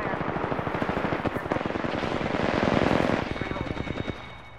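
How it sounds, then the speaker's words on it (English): Rapid automatic gunfire from an Apex Legends firefight crackles in dense, continuous bursts for several seconds, loud and close, with a brief lull before the shots resume. "Opening fire."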